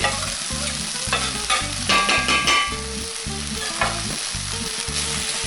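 Garlic fries and sizzles steadily in a pan while a utensil stirs it with repeated scraping strokes, close by and with no talking.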